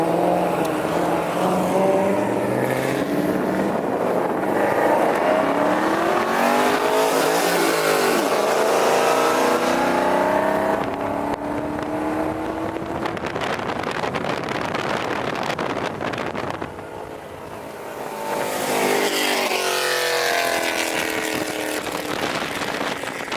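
A loud V8 car engine revs hard and roars continuously, its pitch rising and falling through sustained bursts with heavy wind buffeting, briefly dipping before surging again.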